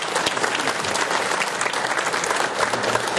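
A room full of people applauds a congresswoman at a winter quarterly community forum, giving steady, dense clapping at close range for a few seconds with no talking over it.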